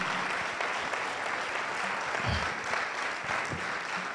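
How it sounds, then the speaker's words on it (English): An audience claps in a sustained round of applause at the closing ceremony of the Kenya Space Expo & Conference 2024, a steady crowd sound with a few low thumps and no talk. "Let's continue with a round of applause."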